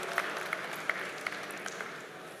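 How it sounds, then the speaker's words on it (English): An audience at a conference on quality engineering gives a round of applause, a steady wash of clapping with a few sharper claps standing out, moderately distant. "Can we have a round of claps for Jyoti and Southwest?"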